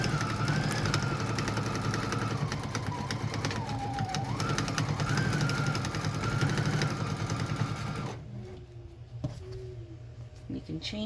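A sewing machine runs steadily as it stitches a 1/4 inch seam on cloth mask fabric using a 1/4 inch presser foot, with a voice talking over it; the machine stops near the end.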